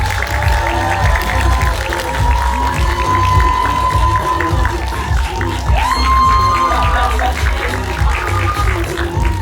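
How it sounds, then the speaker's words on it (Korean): A theater audience claps and cheers loudly as cast members of Weak Hero Class 2 take the stage at a Korean screening event, with sustained applause, whoops and shouts throughout. "큰 박수 부탁드립니다."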